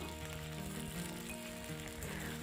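Indian jujubes fry gently in spiced oil over a low gas flame for an Assamese pickle, producing a faint, even crackling sizzle while being stirred.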